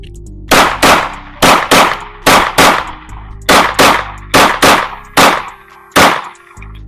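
Close, loud pistol shots from a Taurus G2C, about a dozen sharp cracks fired in quick pairs and singles over several seconds, each with a short echoing tail, with no talking.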